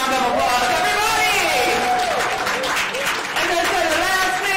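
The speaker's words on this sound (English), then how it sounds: "Let's give ourselves a round of applause" A crowd claps steadily and loudly throughout, with scattered cheering voices mixed into the dense applause.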